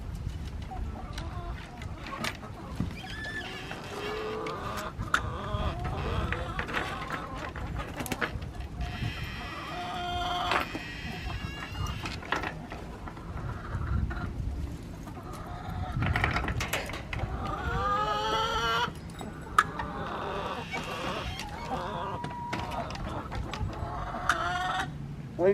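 Chickens in a large backyard homestead pen cluck and chatter continuously, overlapping calls from several birds nearby with occasional louder squawks.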